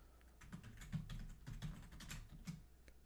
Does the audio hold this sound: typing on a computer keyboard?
yes